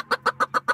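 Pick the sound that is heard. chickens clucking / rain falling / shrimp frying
chickens clucking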